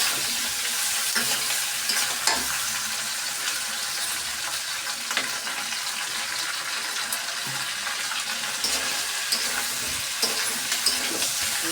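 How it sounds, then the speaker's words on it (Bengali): Cumin paste frying in oil in a pan, a loud continuous sizzle with bursts of spitting and occasional stirring scrapes, close and steady from start to finish. "জিরে বাটা দিয়ে আগে একটু ভাজা ভাজা করে নেবো"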